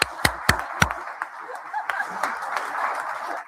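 A live audience applauds during a Canadian morning news show: a few sharp, close claps open, then scattered crowd clapping continues with some soft chuckles mixed in before fading out.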